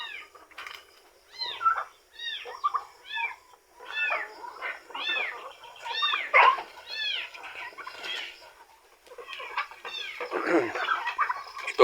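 Repeated turkey gobbles, a run of rising warbling gobbles and chirps in quick bursts, fairly close, with short pauses between, in a quiet setting.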